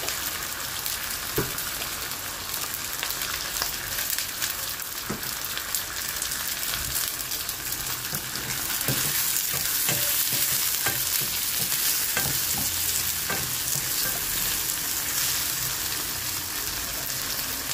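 Scallops and asparagus sautéing in a pan with oyster sauce, a steady close sizzle and frying hiss with intermittent stirring clinks and scrapes throughout, no talking.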